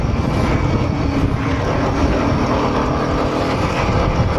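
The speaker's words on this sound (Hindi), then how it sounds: "हवा भी इतनी तेज़ है, बारिश भी पूरी तेज़ है।" Strong wind and heavy rain roaring steadily around a motorbike rider on the road to Spiti Valley, a loud continuous broadband rush with no pauses.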